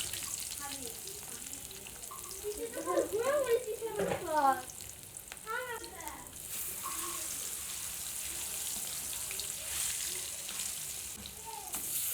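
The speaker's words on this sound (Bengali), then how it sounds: "মাছ ভাজি করতেছি, বোয়াল মাছ দেখতে পাচ্ছেন।" Boal fish fries in oil in a pan, giving a steady sizzle throughout, with a brief clatter and a few faint birdlike chirps in the background.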